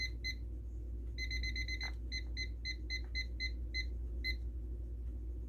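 A kitchen timer is set and then beeps in quick repeated bursts, loud and close, over a steady low hum while pita dough rests to rise.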